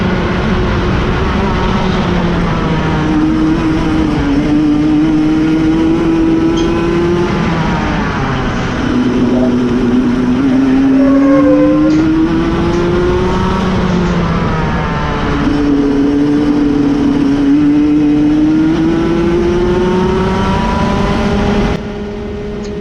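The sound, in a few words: go-kart engine driving practice laps on damp track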